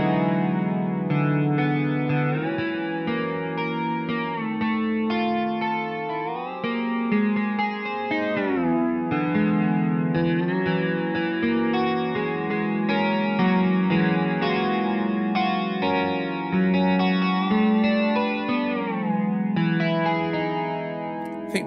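A Yonac Steel Guitar PRO virtual slide guitar plays sustained chords and gliding slides through chorus and distortion effects, loud and continuous with no one talking.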